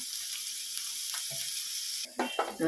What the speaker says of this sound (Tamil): இந்த பக்கம் சாம்பார் கொதிக்குது